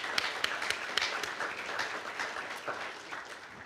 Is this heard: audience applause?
yes